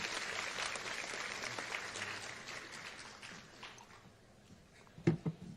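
Audience applause closing a scholarly lecture in a hall, a full round of clapping that gradually thins and fades, ending with a couple of louder knocks or handling sounds.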